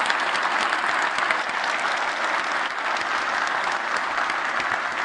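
Loud, sustained applause from a keynote audience at GitHub Satellite, dense overlapping clapping that fills the room evenly from start to finish with no one speaking over it.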